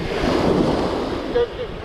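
Waves and bubbling water at a beach, a loud continuous wash of surf with wind buffeting the microphone and a brief splashing burst near the end.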